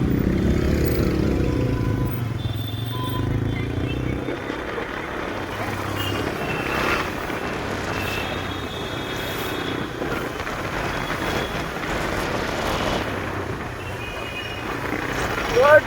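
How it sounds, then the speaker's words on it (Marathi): Vehicles and motorbikes pass through busy Nashik street traffic, giving a continuous drone of engines mixed with wind buffeting, while people talk throughout. "थांब गाडी येते."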